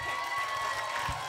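Faint, brief applause and crowd noise from an audience at a school show, a soft continuous patter of clapping.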